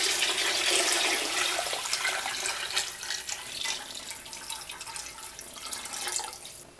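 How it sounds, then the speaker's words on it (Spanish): Water pours steadily into a pot of vegetable soup with cooked tomato, a loud gushing splash at first that gradually softens as the pot fills. "Ahora lo que voy a hacer, le voy a agregar agua."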